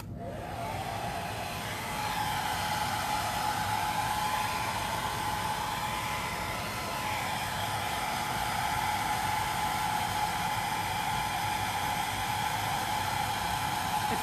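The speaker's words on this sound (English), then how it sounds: "I think what I'm going to do is use the hair dryer a little bit." A hair dryer blows steadily and loudly throughout, a constant whooshing hum with no talking.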